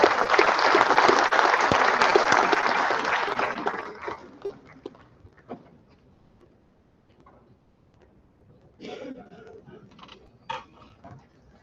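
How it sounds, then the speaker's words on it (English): Audience applause to thank a guest at an academic conference on a campus, dense clapping for about four seconds that fades out, followed by quiet hall noise and scattered bumps. "thank sir by giving a big round of applause"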